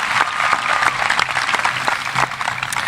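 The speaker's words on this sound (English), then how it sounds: "let's show our appreciation with a well-deserved round of applause for Lieutenant Colonel Chris Engel and Mr." A graduation ceremony audience at a 2025 high school commencement gives a warm round of applause, a thick, even wash of clapping that stays loud for the whole stretch.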